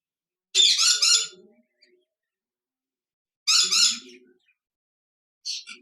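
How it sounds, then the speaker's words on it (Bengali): A pair of caged budgerigars gives three separate bursts of harsh, chattering squawks, each short and loud against otherwise quiet surroundings. "খাঁচা নাম্বার আটান্ন এখানে দেখতে পাচ্ছেন এক জোড়া বাজরিকার পাখি রয়েছে"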